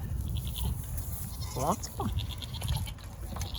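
Goats bleat a few times at moderate distance outdoors while a man greets them and talks, with a steady background hum underneath.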